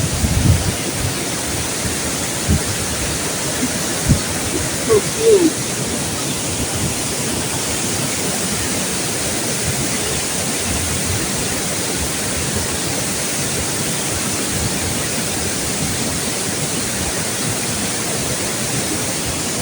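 Sathmahal Ella waterfall roaring with heavy spray, a loud, unbroken wash of falling water heard up close for the whole stretch.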